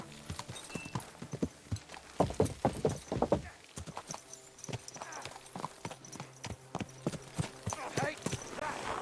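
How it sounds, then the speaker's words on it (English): Horse hooves clip-clop in Kingdom Come: Deliverance 2, a steady run of sharp clustered strikes with a brief whinny. A voice talks over parts of it. "Someone's been pampering this horse."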